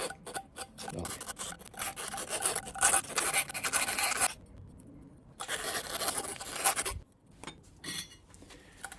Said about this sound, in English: I'm going to use a rat's tail file. Just take the burrs off inside.